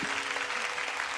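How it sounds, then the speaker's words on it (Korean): Brief burst of congregational applause at a prayer meeting, a dense wash of clapping heard close and fairly loud. "하나님께 영광의 박수 올려드리고"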